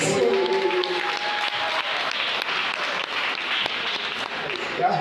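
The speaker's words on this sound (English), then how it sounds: "Let us clap for Nixon." A church congregation claps together in a sustained burst of applause that fills the room, with voices mixed in underneath.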